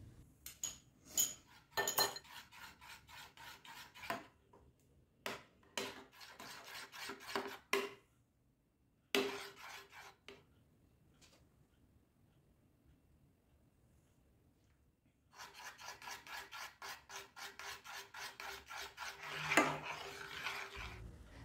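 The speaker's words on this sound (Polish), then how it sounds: "Na koniec dodajemy miękkie masło i mieszamy" Soft butter stirred into a chocolate glaze in a small pot, repeated rhythmic scraping strokes of a spoon against the pot in bursts, pausing in the middle before a long steady run of quick stirring.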